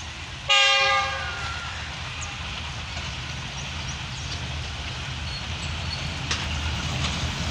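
A Pakistan Railways express railcar passes Mankiala station: a loud horn blast near the start, then a steady close rumble and rattle of the cars rolling by.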